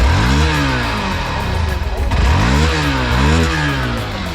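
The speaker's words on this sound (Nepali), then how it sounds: "यसको एक्जस्ट नोट सुनाउँछु" A Hero XPulse 200 4V motorcycle with a four-valve engine revs nearby, its exhaust note rising and falling in repeated swoops. Speech-like sound is faintly mixed in.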